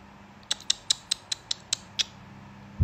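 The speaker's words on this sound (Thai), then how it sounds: "ทุกคนได้ยินไหมเสียงจิ้งจก" A house gecko calls nearby indoors with about eight sharp clicking chirps in a steady rhythm, fairly loud over a low hum, with no talking.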